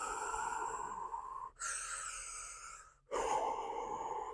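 A voice imitates the rustling breath sounds of normal lungs heard through a stethoscope, making breathy, hissing inhales and exhales in three drawn-out bursts, close and fairly soft.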